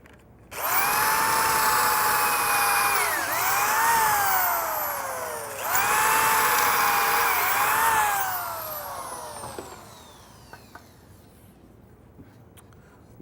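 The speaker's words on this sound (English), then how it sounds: "So I'm just going to show drilling a few of these holes here from one of my stretchers." A power drill bores pocket screw holes into a wooden cabinet stretcher, a loud, near whine that rises and dips through a few long runs before winding down, followed by faint handling clicks.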